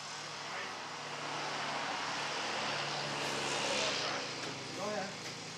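The engine of a 1951 Chevy truck sputters and rumbles on its first start, running rough and uneven with swelling bursts, while people talk over it nearby.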